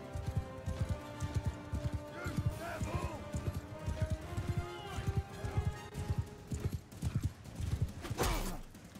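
Horses gallop in the Mount & Blade 2 Bannerlord video game, a steady rapid clip-clop of hooves with an occasional neigh, close and continuous, while a voice talks over the action.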